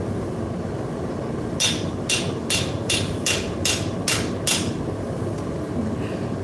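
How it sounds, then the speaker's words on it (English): A rapid run of about nine heavy metallic blows from an air-assisted shuttle power hammer forging a hook in a blacksmith shop rings out over a steady mechanical hum, evenly spaced and close. "air-assisted shuttle hammer must be nice"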